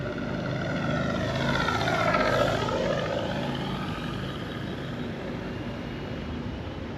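A FlightLine Corsair RC model airplane flies overhead, its propeller engine a steady whine that climbs and sweeps in pitch as it passes, loud and continuous throughout.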